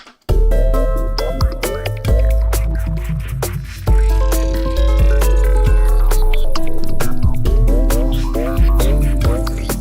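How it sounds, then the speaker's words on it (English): Music run through a gritty, aliased sample rate reduction effect, with harsh metallic overtones and a steady beat playing loud throughout. "It's not bit crush. This is sample rate reduction."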